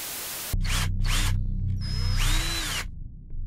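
A power drill whirs with a steady motor hum, revving up and down in bursts over a few seconds, close by and fairly loud.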